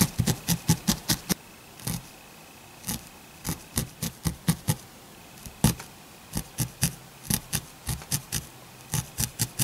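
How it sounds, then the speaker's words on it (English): Scissors snipping yarn during a felting craft, a long run of quick, crisp cuts in uneven bursts, close and clear with no talk. "so I'm going to cut that off."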